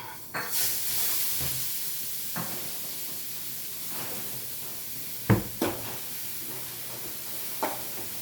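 Grated carrots tipped into a hot pan for carrot halwa, giving a steady hiss and sizzle with a few sharp clinks and scrapes of utensils against the pan, fairly close and without talk.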